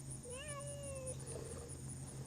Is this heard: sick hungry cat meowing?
yes